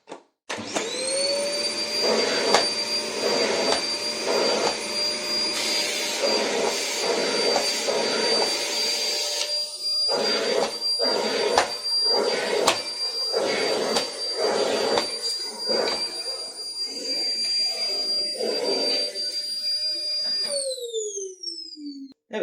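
A Fakir Intra 800 W vacuum cleaner runs loudly with a steady high whine, with rhythmic bumps as it is pushed back and forth, then winds down at the end.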